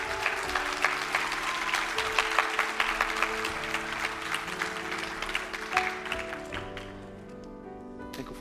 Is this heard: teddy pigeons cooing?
no